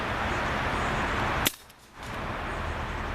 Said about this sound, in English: let me shoot over at the target